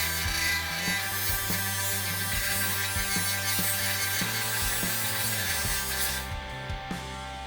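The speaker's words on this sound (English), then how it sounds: "I'm just using the sandpaper to round the sides up." Sandpaper rubbed by hand along a wooden axe handle, steady rhythmic scraping strokes repeating roughly every half second, loud and close, easing off near the end.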